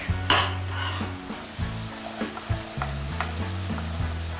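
Garlic sautéing in a pan for a vegetable tamale pie gives a steady close sizzle, broken by a run of scraping stirs and clinks of a utensil against the pan.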